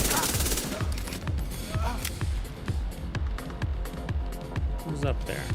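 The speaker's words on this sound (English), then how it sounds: "Damn, what's this? Sniper up there?" Gunfire in The Division 2 video game, a fast, steady run of sharp repeated shots close and loud, continuing nearly nonstop while someone talks over it.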